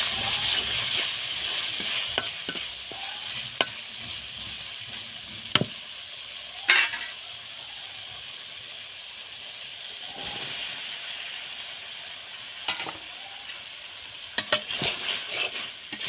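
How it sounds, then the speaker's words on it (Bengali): Taro stolons and shrimp are stirred in a frying pan, with a soft continuous sizzle and scattered scraping and clinking of a utensil against the pan, quiet and close. "এ পর্যায়ে আমি লতিটা দিয়ে কিছুক্ষণ নেড়ে চেড়ে তারপর এটার মধ্যে অল্প পরিমাণ একটু ঝোল দিয়ে দেব"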